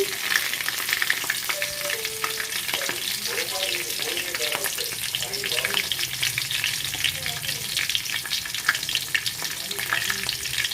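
Dried red chillies and green chillies frying in hot oil for a Telugu ridge gourd curry, with a steady close sizzle and crackle and occasional light utensil clinks, no talking.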